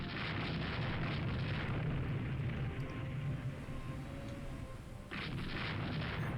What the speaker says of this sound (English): Just start bombarding the shit out of this thing